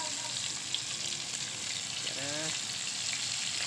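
Bitter gourd (karela) fries in oil with a continuous soft sizzle, fairly quiet and even throughout, broken only by a brief voice partway through.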